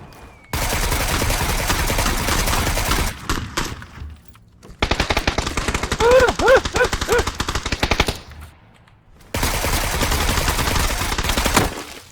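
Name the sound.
gunfire in a video game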